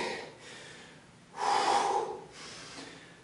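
A man exercising his chest muscles takes audible breaths close to the microphone, a soft sniff-like intake, then a louder, rushing exhale that swells and fades, followed by a quieter breath.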